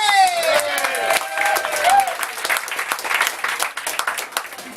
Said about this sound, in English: A round of applause this evening.